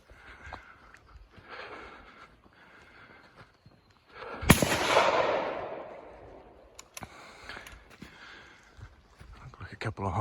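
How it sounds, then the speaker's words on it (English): A single sharp rifle shot fired as a finishing shot on a deer hunt in open country, loud and close, with a long rolling echo afterward and quiet surroundings before and after. "But I think Kiddo's going to need a finishing shot."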